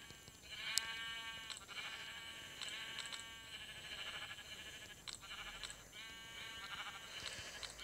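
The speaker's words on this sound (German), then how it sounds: "Da müsst ihr jetzt also in das Loch Schafe reinmachen." Sheep in Minecraft Pocket Edition bleat almost without pause, several overlapping wavering calls from a crowded flock, fairly close against a buzzing background.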